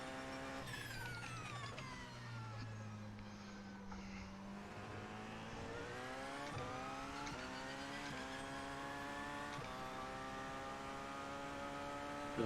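Several LMP2 prototype race cars in iRacing's 24 Hours of Daytona howl past, their engines rising and falling through gear changes, steady and loud with overlapping high-revving tones and no voices.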